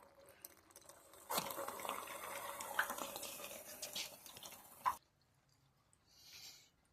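Water draining from a household hot water heater during a tune-up, a faint hissing, trickling flow that runs steadily for a few seconds and then stops abruptly, leaving near silence.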